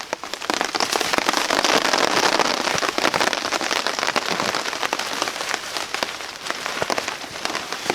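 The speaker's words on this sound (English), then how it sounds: "So we got fog, drizzle, rain, wind." Rain falls outdoors amid fog and wind, a steady, dense hiss of drops pattering on surfaces close by, with sharper individual taps scattered throughout and no voices.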